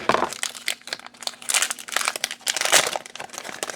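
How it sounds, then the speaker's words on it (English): Plastic sealed bags holding Epson EcoTank ink bottles for an ET2760 printer crinkle and rustle up close while being cut open, with a steady run of dense crackling and a few sharper snips over about four seconds. "so let's cut the bags open"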